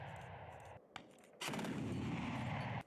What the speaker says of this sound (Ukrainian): А неподалік зенітники стріляють по світловій міні, котра грає роль літального апарата.